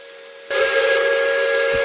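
An American steam whistle in the Roblox RO-Scale Sandbox game sounds a steady, loud tonal blast with a hissing edge, rising sharply in strength partway through and holding on.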